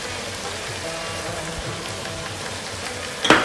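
A pot of lamb biryani simmers and sizzles steadily while being stirred, with soft scraping and a sharp metallic clink near the end.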